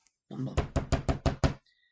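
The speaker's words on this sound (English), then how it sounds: "knocked urgently on the door" Urgent knocking on a closed door: six quick, hard raps in a fast even rhythm, close and loud, following a brief rustle and then silence.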